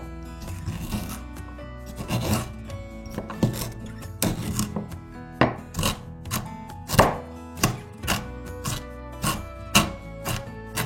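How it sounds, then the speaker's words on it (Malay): Peeled galangal is chopped coarsely with a knife on a board, a run of firm, rhythmic thunks that slow into evenly spaced single strokes toward the end. "Cincang kasar."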